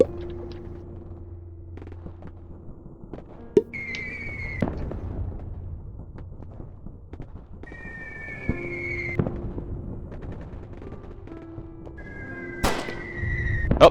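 Gunfire in the roguelike video game Daikon Hero: several sharp bangs ring out among tonal chimes and a low rumble, spaced irregularly across the stretch, moderately loud and with no talking.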